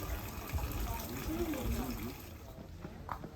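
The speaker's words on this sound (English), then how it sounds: "it's customary to wash your hands and possibly your mouth with water from the shrine's water basin" Water pours steadily from the basin at a Shinto shrine in Hakone as hands are washed, a continuous splashing trickle with faint voices murmuring underneath.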